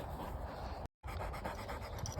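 A tired dog pants steadily and rapidly after running in an open grassy field, close and fairly quiet, with a brief dropout midway and a louder breath or thump at the end.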